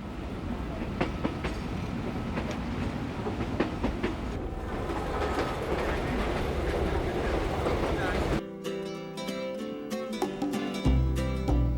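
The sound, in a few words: train running along coastline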